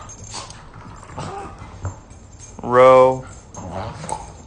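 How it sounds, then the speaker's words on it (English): A puppy whimpers and yelps in one loud, drawn-out burst, with softer whines before and after, while a person talks nearby. "Shh, puppy, be quiet."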